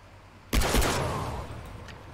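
A sharp burst of gunfire in Far Cry 3, two quick loud shots with a decaying echo, no talking.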